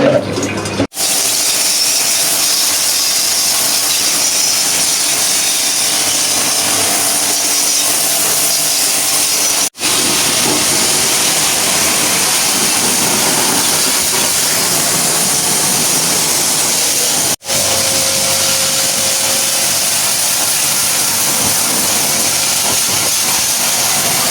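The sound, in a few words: pressure washer spraying while cleaning an air conditioner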